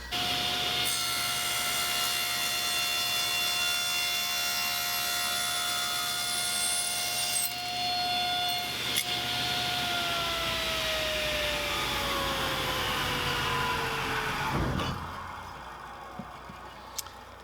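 A Klingspor combination saw blade cuts through aluminum with a steady high whine and shrill ringing tones that shift in pitch, then winds down toward the end, loud and close, with no talking.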